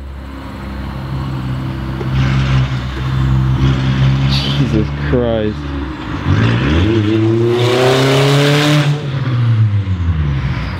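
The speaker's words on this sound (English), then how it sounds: "I hear his car. It's definitely his car." A truck engine approaches and revs loudly, rising and falling in pitch as it pulls up close, with people talking over it.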